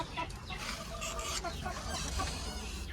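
Desi chickens and a rooster on a small poultry farm cluck and squawk close by in overlapping bursts, a busy flock chorus with a few sharper calls.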